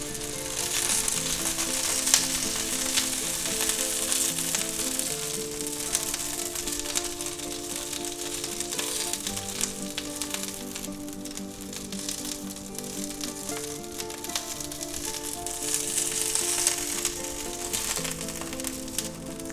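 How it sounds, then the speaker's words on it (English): Asparagus sautéing in peanut oil in a cast iron skillet, a steady crackling sizzle that holds fairly even throughout, with no voices. "we'll take all our nice asparagus and we'll put them right in there"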